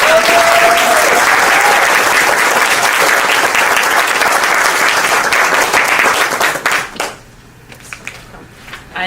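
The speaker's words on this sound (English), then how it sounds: "Let's give a round of applause for Dr. Edwin Bogonko" Audience at a medical association brunch giving a loud, sustained round of applause that fills most of the clip, then thins to a few scattered claps and trails off near the end.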